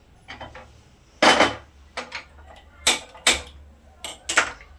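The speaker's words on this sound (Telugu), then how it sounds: "స్టవ్ ఆన్ చేసి కుక్కర్ పెడుతున్నా" A pressure cooker being set on a kitchen stove while making dal khichdi, a series of sharp metallic clanks and knocks in irregular bursts, close and fairly loud, with faint background noise.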